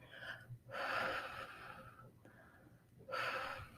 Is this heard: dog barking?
no